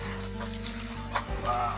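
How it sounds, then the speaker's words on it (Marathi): Turmeric and salt water is poured into hot oil where jackfruit chips are frying on a wood-fired stove, giving a steady watery pour and hiss over a low background hum. "तर त्यानंतर आपण हळद आणि मिठाचं पाणी थोडा सोडतो"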